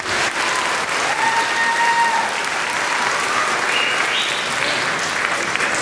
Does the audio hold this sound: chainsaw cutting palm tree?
no